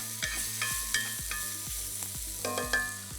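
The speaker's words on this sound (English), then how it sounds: "So while the onion starts caramelizing" Onion cooking in a pan gives off a quiet sizzle, punctuated by regular clinking scrapes of a utensil stirring in a steady rhythm, with no voices.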